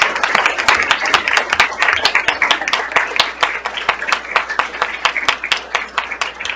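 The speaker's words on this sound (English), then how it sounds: "can we do another round of applause for these great students?" Audience applause for students at a school governing board meeting, a steady crowd of fast, dense hand claps filling the room for several seconds at close range, with no talk over it.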